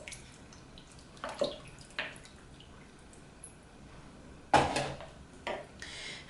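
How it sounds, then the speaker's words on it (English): Four cups of homemade salt-free chicken broth are poured into a slow cooker over a tenderloin, giving short splashing, gurgling bursts and drips between quieter pauses, with a few faint clinks. "I have 4 cups of homemade salt-free chicken broth. I'm going to pour that in."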